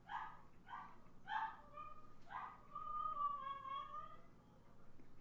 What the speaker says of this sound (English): that started my dog off barking in the window